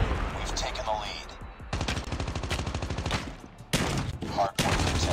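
Rapid bursts of gunfire in the online shooter Call of Duty during a Hardpoint match, dense rattling shots in two long sustained volleys and shorter bursts, loud and close, with faint game voices between.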